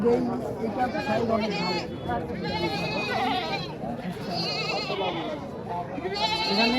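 Goats bleat repeatedly, with sheep also present, among a crowd of people chattering and talking close by at a goat market in Naogaon, Bangladesh.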